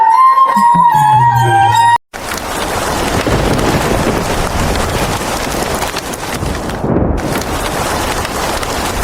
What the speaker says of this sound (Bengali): আবারও বৃষ্টি শুরু হলো।